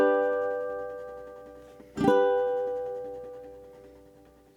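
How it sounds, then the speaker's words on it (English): A single ukulele note is struck and held with a very intense vibrato, then left to ring and fade slowly. A quieter tail from an earlier note fades out before it, and another pluck begins right at the end. "We could have a very intense vibrato"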